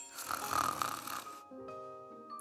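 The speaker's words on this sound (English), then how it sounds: "Snoring." Snoring from a character in the video game Nikke, a long, loud, breathy inhale-exhale rumble followed by a quieter tonal trailing sound with soft musical background.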